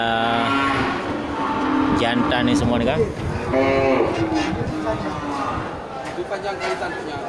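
Water buffalo low repeatedly at a livestock market as young bulls are loaded onto a truck, loud drawn-out moos over crowd noise, with someone talking throughout.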